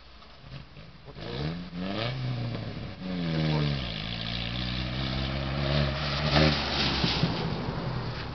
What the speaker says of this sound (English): That's a truck and it wasn't running very good.